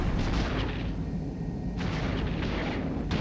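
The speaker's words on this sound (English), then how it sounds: "Defensive fire's too intense." Dense, continuous barrage of laser and cannon fire from capital ship defences in the space combat game X-Wing Alliance, a steady roaring wash of overlapping blasts with sharper bursts cutting through, loud and unbroken.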